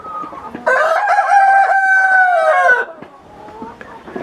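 A rooster at a breeding farm for egg-laying chicken breeds gives a single close, loud crow lasting about two seconds, with soft clucks and farmyard noises before and after.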